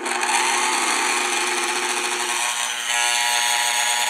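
A rewired Westinghouse sewing machine motor running steadily after cleaning, a loud close whirring hum that holds evenly and shifts slightly in pitch near the end.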